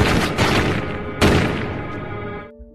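Bursts of gunfire as DEA agents shoot Jojo in a Jason Statham film: a loud volley at the start, a second sharp burst just over a second later, then reverberating decay into quiet.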